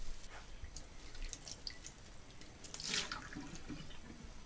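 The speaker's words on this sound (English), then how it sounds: "Now I take that to the sink and wipe that out." Faucet water running into a kitchen sink while a cast iron pan is wiped out with a damp rag, soft trickling and dripping with a brief louder splash near the middle, quiet and close.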